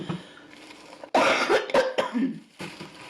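A person coughs several times in a quick burst, loud and close, with quieter throat sounds and breathing before and after, in a casual eating session.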